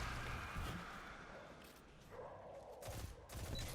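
Gunfire in the Destiny 2 video game as a Warmind cell is shot: a few dull, faint bursts of shots rolling over a constant game ambience.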